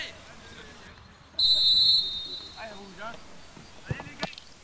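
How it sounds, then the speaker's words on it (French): A referee's whistle gives one short, sharp blast to start a football match, heard at a distance over crowd murmur and background chatter, with brief later knocks and thumps. "on siffle le début du match, c'est parti"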